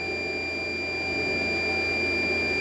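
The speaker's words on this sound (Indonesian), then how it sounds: "Ini menunggu sampai alarm mati seperti ini" Overload alarm of a Life3 5 kW 48 V inverter, a loud, steady electronic tone that holds without a break throughout.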